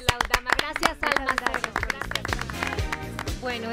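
Studio audience applause on a Spanish-language TV show, a burst of close, crisp hand clapping that thins into scattered claps as a voice talks over it.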